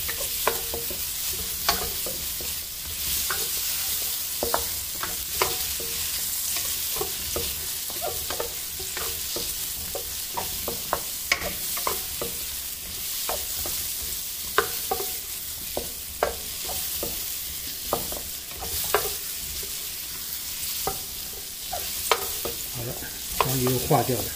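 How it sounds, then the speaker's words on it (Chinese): Butter melts and sizzles over low heat while mushrooms with garlic are stirred in a pan, a continuous close frying hiss broken by frequent scraping stir strokes that run steadily throughout. "开小火，慢慢炒，把黄油炒化掉。"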